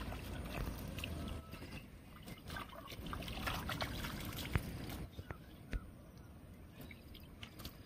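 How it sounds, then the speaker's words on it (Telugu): Freshly picked lily flowers being washed by hand in water, giving a continuous close trickling, sloshing wash with a few louder splashes, and a voice faintly underneath. "పువ్వులు తీసారు కదా, దాన్ని డస్ట్ ఉంటుంది, ఇలా కడగాలి."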